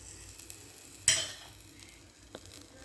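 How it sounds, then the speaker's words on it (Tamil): Mustard seeds spluttering in hot oil in a kadai for Tamil mango rice: a sudden loud sizzling burst that fades over a second, then a low crackle and one faint pop, with no talk. "கடுகு பொரியட்டும். கடுகு பொரிஞ்சிருச்சு."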